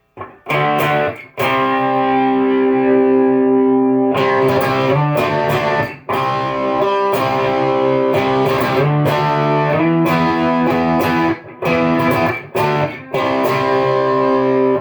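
Loud distorted electric guitar through a Marshall amp with no delay or wet effects, sustained chords with brief breaks and choppy muted strums, close and dry.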